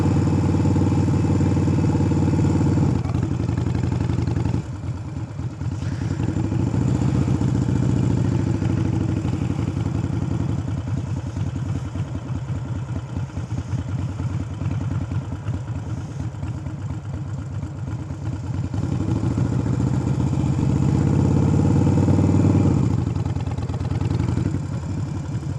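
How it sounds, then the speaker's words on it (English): A motorcycle engine runs steadily in first gear in a parking lot, a continuous near, loud mid-pitched drone with slight rises and dips in revs throughout. "Make sure the motorcycle is in first gear"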